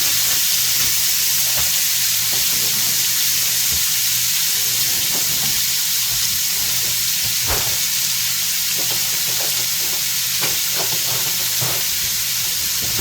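Frozen peppers and onions fry in a pan, a loud, steady sizzle and hiss with occasional clicks and scrapes as they are worked around with a wooden spatula.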